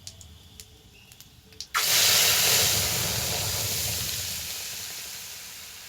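Ground spice paste hits hot oil with cardamom, cloves and cumin for a kohlrabi curry, bursting into a loud, close sizzle that stays strong and slowly eases. A few quiet clinks come just before, with no talking.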